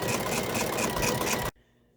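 An embroidery machine stitches a zigzag in the hoop with a fast, steady mechanical whirr and chatter, loud and close, then stops abruptly, leaving near silence.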